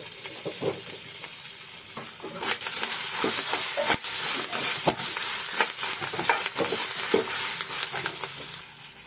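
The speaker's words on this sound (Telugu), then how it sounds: "వేగిన పోపులోకి పచ్చిమిరపకాయలు, కరివేపాకుని యాడ్ చేసుకోవాలి." Green chillies and curry leaves fry in hot oil with already-fried tempering seasonings for a jackfruit curry, a steady loud sizzle broken by scraping stirs and small crackles.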